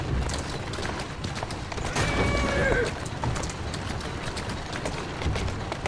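Horse in Assassin's Creed Syndicate, steady clip-clopping hooves at a gallop with a rising whinny partway through, set against a game soundscape with occasional distant pops.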